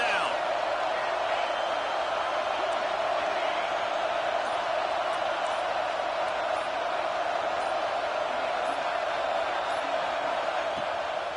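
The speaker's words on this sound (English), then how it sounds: "Decibels rising as the crowd gets behind this defense on 3rd down." A college football stadium crowd roars loudly and steadily on a third-down defensive stand, a dense wall of cheering that holds at full volume without letting up, with an announcer's voice faintly underneath.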